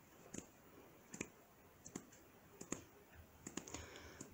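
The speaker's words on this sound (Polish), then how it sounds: "Dokładnie słyszymy stukanie palców o czaszkę." Fingertips tapping against the skull during a face massage, a series of soft, sharp, close taps in an irregular rhythm over a quiet background.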